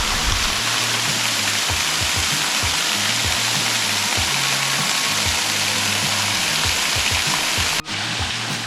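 A waterfall pours into a small pool along a forest trail near Lawson, a loud, close, constant rushing roar of falling water with a low churning rumble and no voices.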